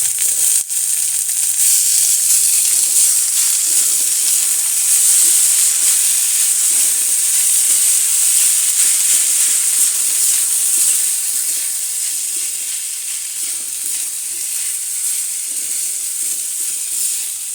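Rice tipped into a hot pan of oil on a home stove with the gas just switched off, setting up a steady, loud sizzle and hiss that runs unbroken throughout and slowly eases toward the end.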